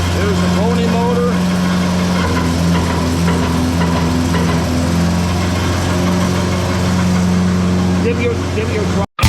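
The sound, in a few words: pony motor running on a pulling tractor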